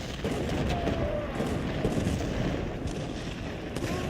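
Massed artillery fires in Ultimate General: Civil War, a dense continuous barrage of overlapping booms and crackling gunfire that stays loud and steady throughout.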